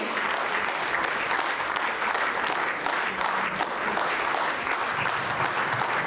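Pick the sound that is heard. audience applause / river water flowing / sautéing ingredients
audience applause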